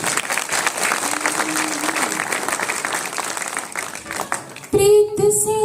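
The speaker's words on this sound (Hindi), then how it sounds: "एक बार तालियां बजा दीजिए" Audience at a Hindi kavi sammelan poetry gathering in Alwar breaks into sustained crowd applause, loud and dense, fading out before a voice resumes speaking near the end.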